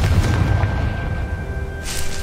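Confringo blasting spell in Hogwarts Legacy, a loud booming blast with a low rumbling body and a brief crackle at the end.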